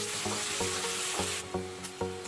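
Onions frying in oil with mustard seeds, dry chillies and curry leaves, a close continuous sizzle broken by regular spatula scrapes against the pan.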